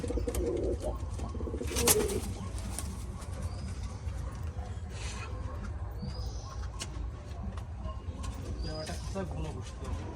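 Porbon fancy pigeons cooing in cages, a dense low murmur of many birds with a brief louder flutter near the start and faint voices in the background.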